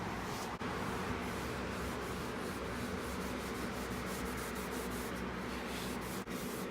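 A cotton t-shirt rubs mineral oil into a wooden grill scraper, a continuous soft swishing friction up close with a couple of brief pauses.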